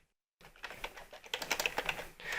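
Quick bursts of keystrokes on a computer keyboard, close and fairly quiet, with irregular clicking that thickens into a faster run near the end.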